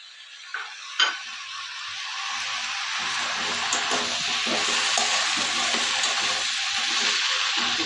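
Peas and ginger paste are tipped into a pan of vegetables frying for khichuri, a couple of soft clunks at first, then a hissing fry that swells and holds steady, with faint stirring.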